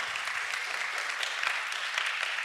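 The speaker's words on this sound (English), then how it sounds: "Can we give our panelists a round of applause?" Audience clapping for a panel at a blockchain summit session, a brief dense burst of applause from a crowd, moderately loud and unbroken, with no voices over it.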